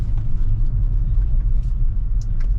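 Steady low road rumble and engine drone heard from inside a Tesla driving itself through Portland city streets, continuous and fairly loud, with a few faint ticks.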